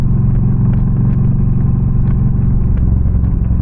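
Yamaha V Star 1300 Deluxe cruiser loping along in fourth gear, a loud, deep, even engine rumble heard up close with faint clatter and wind, steady throughout.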